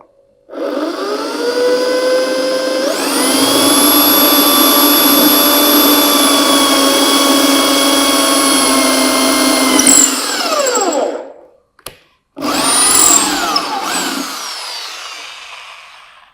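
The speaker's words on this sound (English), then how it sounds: "So that's the drilling that we did." A Bosch GSB 10 RE 500-watt corded electric drill bores into wood, its motor whining up to a steady high-pitched spin for several seconds, slowing and winding down, then a short second burst that tapers off, loud and close.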